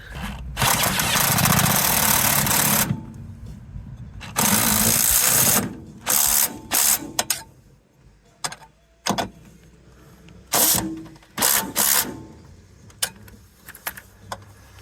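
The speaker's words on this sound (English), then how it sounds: "Suppose I can drive a bolt in it." Loud bursts of a power tool whirring and ratcheting, a long run then a series of short, choppy pulses with pauses between, close by.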